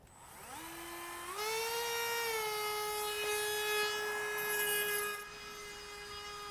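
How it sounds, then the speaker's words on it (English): A rotary tool runs a finer-grit sanding band on an easy speed click mandrel, a steady high-pitched whine that ramps up in pitch near the start, holds level, and eases off slightly near the end, with no talking. "go on to the slightly finer sanding band"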